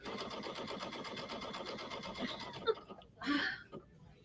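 A sewing machine running steadily through an angled stitch at a store demonstration, its rapid regular stitching rhythm loud and continuous for over two seconds, then stopping into a few brief clicks and a short mechanical whir.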